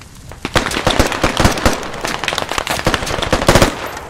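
Rapid bursts of close, loud automatic gunfire in the video game Squad, sharp cracks layered over one another in irregular volleys throughout, with no voices.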